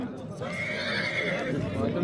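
Horses whinny loudly and close by at a busy livestock market, one long neigh rising over crowd noise and people talking in the background.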